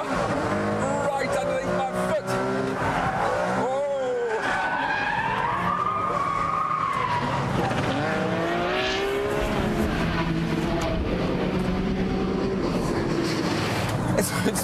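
Ferrari Enzo supercar with a 600-horsepower engine accelerating hard and braking at speed, a loud continuous engine roar with rising and falling pitch sweeps and tyre skid noise, mixed with a voice talking over it.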